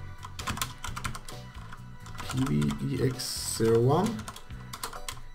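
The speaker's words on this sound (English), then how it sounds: "enter the address to the email server" Computer keyboard typing while an email server address is entered into a new browser tab, quick clicks heard close up under a man's speech.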